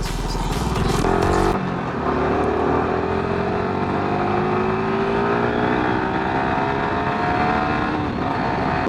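Motorcycle fitted with a quick shifter accelerating hard on an open road, engine note climbing steadily with a brief gear change near the start, loud and continuous with no talking.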